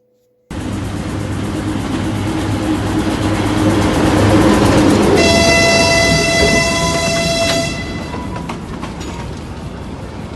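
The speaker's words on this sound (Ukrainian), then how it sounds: "той самий потяг Львів-Черкаси біля Українського католицького університету." A Lviv–Cherkasy passenger train passing near the Ukrainian Catholic University in Lviv, loud and close, a rising rumble of wheels and carriages with a long sustained horn blast in the middle, then fading rumble.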